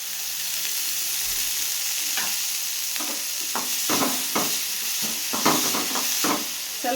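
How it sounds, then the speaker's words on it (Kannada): Onions frying in oil in a pan for mushroom biryani, a continuous loud sizzle with repeated scraping stirs of a spatula over it. "ಸ್ವಲ್ಪ ಹಸಿ ವಾಸನೆ ಹೋಗೋವರೆಗೂ ಫ್ರೈ ಮಾಡ್ಕೊಳ್ಳೋಣ"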